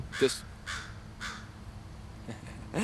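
A crow caws several times outdoors, its harsh calls spaced about half a second apart, moderately loud and fairly close.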